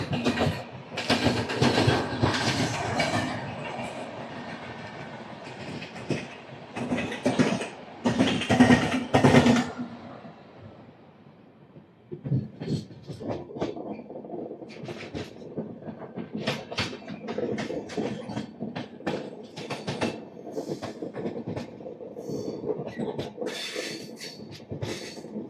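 An express train, the 17221 from Kakinada Port to Mumbai LTT, runs loud and close for about ten seconds, then settles into a softer, steady rolling rumble broken by rhythmic wheel clacks, with no voices.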